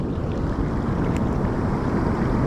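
Ocean waves wash over a sandy beach during surf fishing, a loud, continuous broadband rush of surf mixed with wind buffeting the microphone, with no voices.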